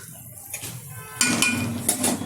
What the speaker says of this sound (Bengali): এবার একটু নাড়িয়ে দিচ্ছি